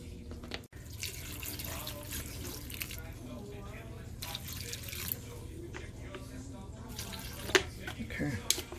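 Water pours from a tap into a pressure cooker pot while carne guisada is being made, a steady running trickle with faint splashes under a kitchen hum, and a brief drip or clink near the end.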